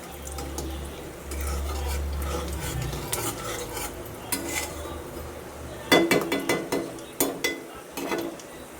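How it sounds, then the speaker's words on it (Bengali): Peanuts frying in a wok are stirred with a metal spatula, giving a soft continuous sizzle with scraping and a run of sharp clinks and knocks against the pan toward the end, close by. "বাদামটা একটু ভাজা ভাজা হোক।"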